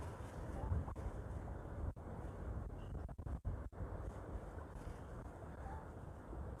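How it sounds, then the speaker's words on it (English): A long, sustained gust of wind blows across the shore while fishing at Elphinestone, a steady roaring rush buffeting the microphone with a few brief dropouts and no voices. "It's a long gust, this one."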